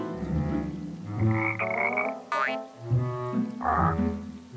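A cartoon frog croaks loudly beside a fishing spot in a run of deep, throaty, rubbery croaks with a springy boing-like sweep in the middle. No one speaks over it.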